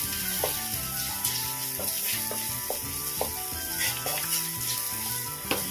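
Chopped onions with a pinch of salt sauté in a pan for bitter gourd thoran, giving a steady sizzle with periodic stirring scrapes and clicks, while faint music-like tones run underneath.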